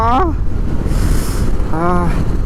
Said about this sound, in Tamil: அப்பா ஐயோ செம்ம காற்றுங்க, அப்படியே சில்லுன்னு ஏறுது